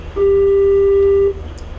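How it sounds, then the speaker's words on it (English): A telephone goes off during a 1987 television interview, sounding a single steady electronic tone about a second long. It is loud and clear and stands alone over quiet room noise. "Is that a phone?"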